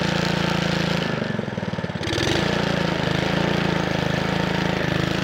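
A lawn mower engine runs loud and close with a steady throbbing drone, dips briefly into a rougher, lower patch, then settles back into an even idle.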